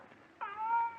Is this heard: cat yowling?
yes